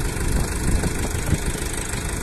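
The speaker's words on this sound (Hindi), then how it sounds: "सोनालिका के अंदर सबसे तबाही वाला ट्रैक्टर है" A Sonalika Tiger new edition tractor engine idles steadily close by. It gives a continuous low, knocking rumble with no talk.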